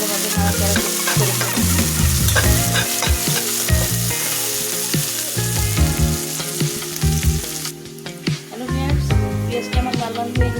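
Onions fry with bay leaf, cardamom and cinnamon in hot oil, stirred repeatedly so the close, steady sizzle is broken by scraping and clattering spoon strokes.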